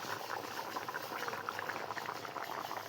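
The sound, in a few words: meat curry boiling in pot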